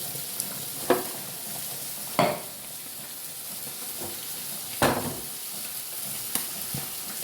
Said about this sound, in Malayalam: താളിക്കുക